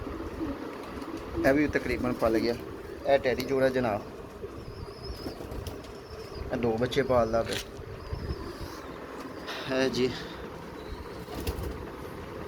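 Breeding pigeons in a loft, including a Frenchie hen, coo in several bursts with occasional wing flaps, while someone talks over and between the calls.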